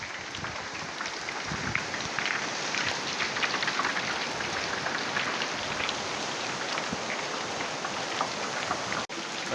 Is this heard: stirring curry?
no